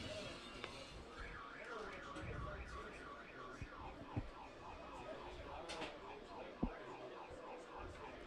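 A car alarm cycles through repeating electronic siren tones somewhere outside a youth baseball field during a state tournament game, faint and distant, with a few sharp knocks breaking through.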